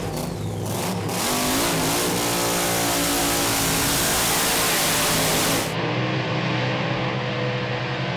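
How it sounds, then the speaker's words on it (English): Top Alcohol drag racing cars at a Perth drag strip, a funny car and a dragster, roar at full throttle. The engine noise is loud, continuous and close, and it rises as the revs climb before easing slightly near the end. "Final of Top Alcohol coming our way right now with Aaron Deary and Craig Glaspie"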